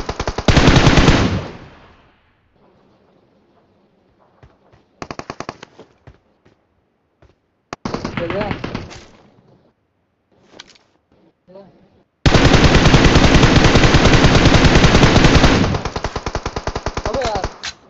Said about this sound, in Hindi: अबे यार क्या M4 चला रहा है?